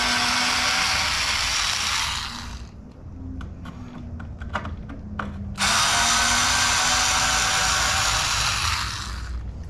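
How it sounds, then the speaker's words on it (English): On a house door latch, an electric screwdriver whirs in two sustained bursts of close, buzzing motor noise, with a few short clicks and taps between them. "If you guys are looking for an electric screwdriver, I'll put a link to it in the description"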